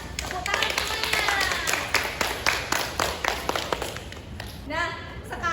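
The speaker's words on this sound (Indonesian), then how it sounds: "Tepuk tangan semuanya." Students in a classroom clapping for a presenting group during a science lesson, a sparse irregular patter of individual claps close by, with children's voices briefly heard.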